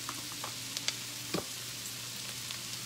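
Shrimp sauté in butter in a pan with a soft, steady sizzle, with a few brief clicks and knocks of a utensil against the pan.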